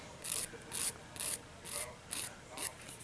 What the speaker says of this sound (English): you want to go ahead and shape your nail